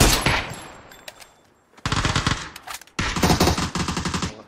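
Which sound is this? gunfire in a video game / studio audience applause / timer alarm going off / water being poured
gunfire in a video game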